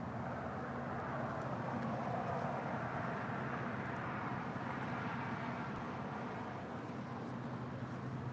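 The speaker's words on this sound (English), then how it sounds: "the big Q, Qatar Cargo Flight 58 Alpha heading to Liege. It's a 777." Steady, loud jet roar from a Qatar Cargo Boeing 777 departing LAX, a broad continuous rumble heard from a distance that holds even for the whole stretch without any voices.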